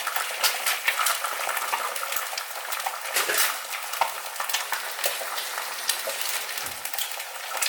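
Eggs fry in a stainless steel pan on residual heat after the burner is switched off, giving a steady, close crackling sizzle that holds at an even level throughout with no talking.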